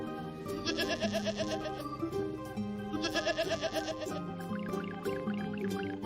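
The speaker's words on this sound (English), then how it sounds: "Sheep." A sheep bleats twice, each call a wavering, quavering baa, set against steady upbeat music.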